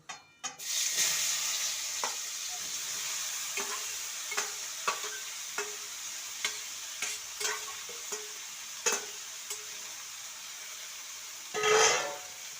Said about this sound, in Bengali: মশলা দিয়ে মেখে রাখা ভেন্ডিটাকে তেলের মধ্যে ছেড়ে দেবো